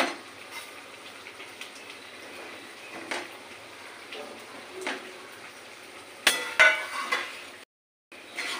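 Pointed gourd frying oil scraped from a metal plate into a pan, giving scattered clinks and scrapes of utensil on metal, with a sharper pair of clanks near the end before a brief silence.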